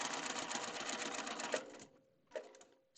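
A sewing machine stitches a quilting seam in a rapid close whir, then stops, and a second short burst follows after a brief pause.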